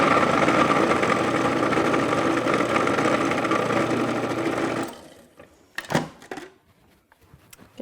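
Countertop blender whirring loudly as it purees dressing for a southwest shrimp salad, a steady motor roar for about five seconds that cuts off abruptly, followed by a few clunks and handling knocks.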